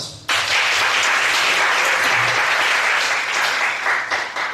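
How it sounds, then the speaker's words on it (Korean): Church congregation at a Friday night prayer service bursts into loud applause that starts abruptly and holds steady as dense, close clapping before tapering slightly at the end. "박수 한번 하십시오."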